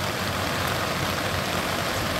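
Steady, unbroken hiss of unseasonal rain falling on a road near Khed, a dense wash of noise with no voices or distinct drops standing out.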